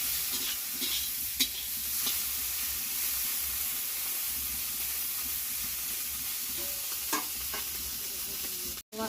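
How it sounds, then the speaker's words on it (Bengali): Food fries with a steady loud sizzle in a pan, stirred now and then with a few scraping clicks of a spatula, heard alone with no talk. "বেশি ভাজা দরকার নেই, একটু হালকা ভেজে নিলে আর ভালো।"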